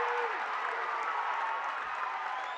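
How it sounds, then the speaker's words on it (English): A high school basketball crowd in a gym, Ponca against Wynot, erupts in sustained cheering and applause after an inside charge call, a loud, dense roar that holds steady throughout. "That lights up this crowd."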